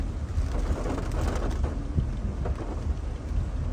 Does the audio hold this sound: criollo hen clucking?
no